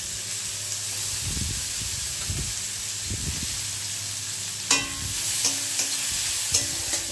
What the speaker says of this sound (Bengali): একটু কাঁচা লঙ্কা ফোড়ন দেব, লাল কাঁচা লঙ্কা, আর তার উপরেই পেঁয়াজটা দিয়ে দেবো